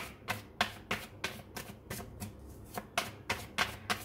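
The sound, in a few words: shuffling and drawing tarot cards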